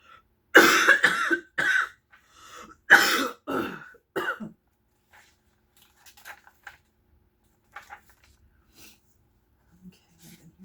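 Close, loud coughing and throat clearing in two heavy bursts, then quieter rustling and small breathy sounds as things settle in a quiet room.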